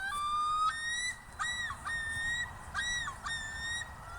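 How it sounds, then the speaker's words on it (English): A common loon's haunting night-time wail, a long rising and falling cry repeated in several drawn-out, siren-like phrases that sound close and loud, with no talking. "That is the common loon, and that haunting wail has been used in horror movies for decades"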